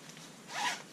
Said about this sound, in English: zipper bag